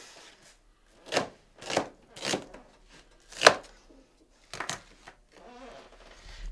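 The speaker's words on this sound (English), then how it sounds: "chop up our onion" A knife chops an onion on a board in a series of crisp, separate cuts, about six or seven irregular strokes close up, with quiet pauses between them.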